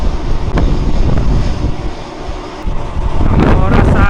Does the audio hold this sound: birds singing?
no